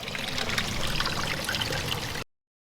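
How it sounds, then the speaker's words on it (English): Water from a garden pond waterfall leaks and trickles into the ground, a continuous, moderately loud splashing dribble that runs evenly and then cuts off abruptly. "you can see their water is actually leaking into the ground"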